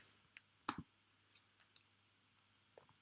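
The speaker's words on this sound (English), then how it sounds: "Click on the button," Computer mouse clicking while an app is tested in the Android emulator: a sharp close double click, then a few fainter scattered clicks over a quiet low hum.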